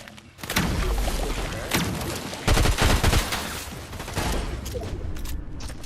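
Shotgun fire in the Unreal video game comes as loud, close bursts of rapid blasts and thuds, bunched tightly and overlapping with little pause between them.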